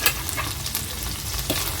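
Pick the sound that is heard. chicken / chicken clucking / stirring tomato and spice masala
stirring tomato and spice masala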